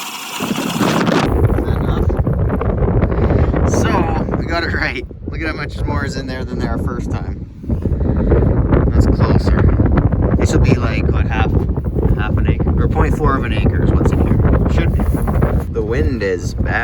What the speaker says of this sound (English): wind is bad.